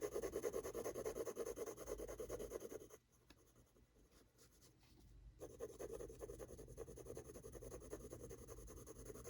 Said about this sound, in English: you can use this 6B to shade in the front part of the cube.